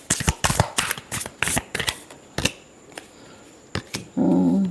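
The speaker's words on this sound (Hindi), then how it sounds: "last shuffle" A deck of tarot cards being shuffled during a card reading: repeated quick riffling bursts, close and fairly loud, with a brief low hum or voice at the very end.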